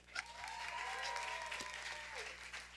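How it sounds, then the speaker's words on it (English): Audience applause at a business masterclass session on team building fills the whole stretch, a steady dense clatter of many hands with a thin tonal whine drifting above it. "Keep the applause going."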